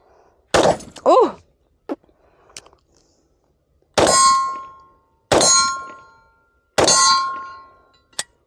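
Desert Eagle pistol shots ring off steel targets at a range: several sharp bangs, each followed by a bright metallic clang that rings and decays, with gaps between them and a few smaller impacts.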